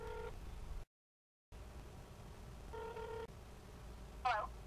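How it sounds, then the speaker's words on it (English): A phone placing a call gives short dial tones in two spaced bursts with a brief dropout between them, followed by a quick warbling ring signal, all faint over low background hiss. "I can call her right now and see if she answers"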